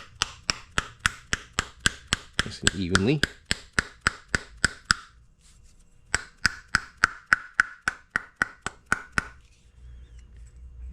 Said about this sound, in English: I'm going to tap this on with a plastic hammer